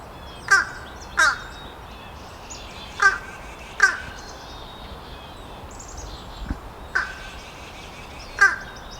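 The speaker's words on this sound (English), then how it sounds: "I came across a fish crow that was perched up in a tree off of the path and was calling continuously" A fish crow perched in a tree gives a series of high-pitched, nasal caws, about seven separate calls spaced irregularly over several seconds, clear against quiet outdoor background.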